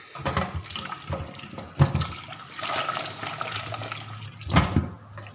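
Water is poured over cut vegetables in a home kitchen while a raclette is prepared, with close splashing and gurgling in uneven surges and a louder gush near the end.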